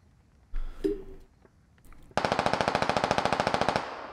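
A single nearer shot and a faint far pop give way to a long, steady burst of automatic rifle fire in the video game Squad, sharp evenly spaced shots, loud and close, with no talk.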